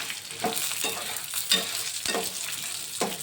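Chutney ingredients, including a little dried coconut, fry in a pan in a village kitchen. Spatula strokes scrape roughly every half second over a soft, steady sizzle, close by and with no voices.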